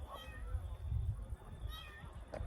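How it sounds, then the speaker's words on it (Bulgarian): A stray cat meows several times close by, short plaintive cries over a soft background of footsteps and rustle, with a voice briefly heard. "Бате, намерих си котка."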